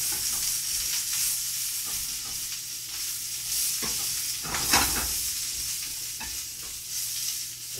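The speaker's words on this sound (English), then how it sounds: "Oh, you can hear the sizzle going there." Broccoli sizzles and hisses in hot oil in a pan while being stirred, a steady close frying crackle broken by scraping stirs, one louder swell midway.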